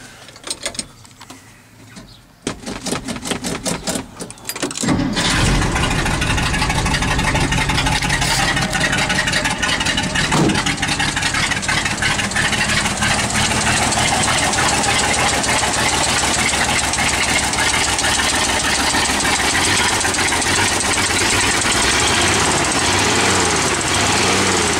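A 1957 Studebaker 3E one-ton truck engine cranks with rapid choppy bursts for a few seconds, then catches and settles into a loud, steady, rough idle with a slight exhaust leak, running continuously up close.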